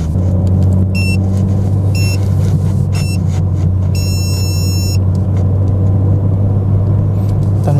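A BMW M4 Competition G82 accelerates hard during a timed 50-120 and 100-200 km/h run, its engine giving a loud, steady, continuous droning rumble from inside the car, with a few brief electronic chimes over it.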